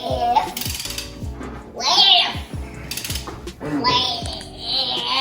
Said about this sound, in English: now we still have to tighten the lug nuts up